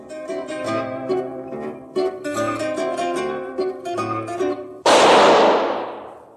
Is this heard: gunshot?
yes